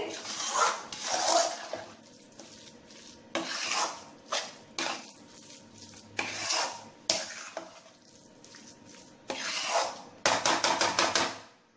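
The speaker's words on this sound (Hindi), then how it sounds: "पाव भाजी मसाला डाल देंगे अब हम इसे अच्छी तरह से मिक्स कर लेंगे" A spoon scrapes and stirs pav bhaji masala through thick mashed vegetable bhaji in a metal pan, close, in irregular bursts of clanking strokes separated by brief pauses.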